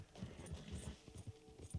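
Rapid, soft hoofbeats of several horses in a video game, a quick clip-clop rhythm sounding faint and muffled.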